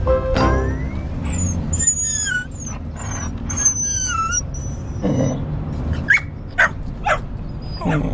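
Several dogs bark, yip and whimper through a Subaru Crosstrek commercial, with sharp barks scattered irregularly over a busy backing track and some faint voice.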